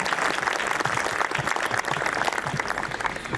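An audience at a family gathering claps for a girl after her stage speech, dense sustained applause filling the room at steady loudness without a break.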